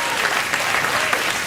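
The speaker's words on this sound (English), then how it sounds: "I'll take your round of applause and pass it on to Larry for you." Studio audience applause on a late-night talk show, a dense, steady wash of clapping held at even loudness throughout with no voices over it.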